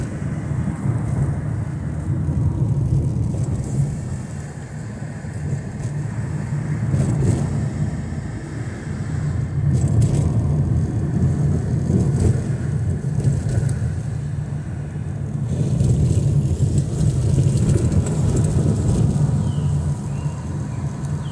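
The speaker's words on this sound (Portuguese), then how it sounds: "Quando abre, vem carro de uma vez, tá?" Cars pass on an asphalt road in Itajaí, their swelling and fading whooshes rising and falling in waves over a steady low rumble of traffic.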